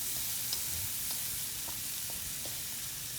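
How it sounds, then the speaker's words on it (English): Onion and about three cloves of crushed garlic frying in a pan for canned tuna macaroni, a faint, steady hiss of sizzling oil with a few light ticks, and no voices. "We let it fry a bit. We let the onion cook up good."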